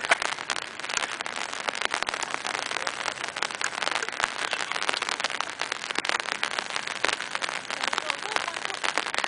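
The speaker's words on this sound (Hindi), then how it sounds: "बारिश हो गई, बर्ड भीग जाओगे" Rain by Lake Lucerne in Switzerland patters densely and steadily on surfaces nearby, a bright continuous hiss with scattered sharper drop ticks throughout, and no clear voices.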